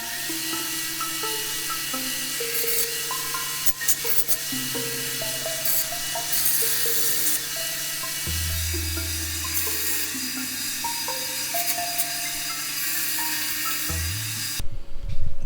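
A belt sander with a 120 grit belt smooths welds on a steel motorcycle seat base, its whirring grind shifting in pitch as pressure changes, with scraping contact noises throughout and a louder clatter at the very end.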